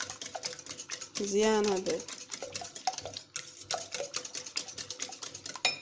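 Madeleine batter with a little white vinegar and salt being whisked in a bowl: quick, rapid clinking and scraping with one brief ringing scrape partway through, while a person talks over it.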